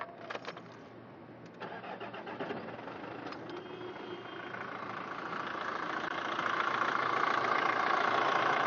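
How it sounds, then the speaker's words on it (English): A diesel car engine cranks with a few sharp starter bursts, catches, then settles into a steady idle that grows gradually louder and fuller over several seconds, heard close with no talking. "we start the motor and see what happens next"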